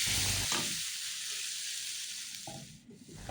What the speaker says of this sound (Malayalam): വാടി വന്ന സവാളയിലേക്ക് ഒരു 2 ചെറിയ തക്കാളിയാണ് ഞാൻ ഇതിലേക്ക് ഇട്ട് കൊടുക്കുന്നത്